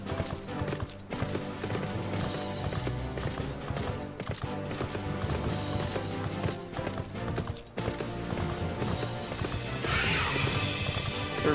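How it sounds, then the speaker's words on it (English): Horse galloping in Final Fantasy XIV, a steady rhythmic clip-clop of hooves running continuously over layered game music and effects, with a brief whinny-like burst near the end. "I'm gonna get on my horse."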